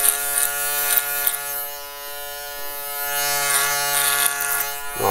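An Andis electric shaver running close by with a steady high-pitched buzzing whine, its pitch and loudness wavering slightly as it moves, continuous for the whole stretch.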